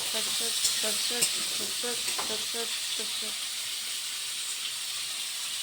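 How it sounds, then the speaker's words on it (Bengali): Potatoes and pumpkin sizzle and fry with tempering spices in a pan, a steady hiss throughout with a few clinks of stirring near the start, while a voice talks over the cooking. "ফোড়নের সাথে আলু আর কুমড়ো ভালো করে নাড়াচাড়া করে নিচ্ছে এখন"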